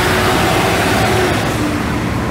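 A Gontijo bus passes on a road, its engine giving a steady, loud, close rumble with a faint rising whine through the pass.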